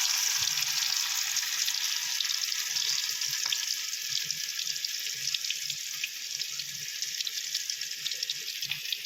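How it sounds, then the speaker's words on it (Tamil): Chicken 65 pieces frying in hot oil, a steady, dense high crackle and sizzle running unbroken throughout, fairly loud and close with no voices. "நம்ம இந்த எண்ணெயில் போட்டு பொரிச்சு எடுத்துடலாம்"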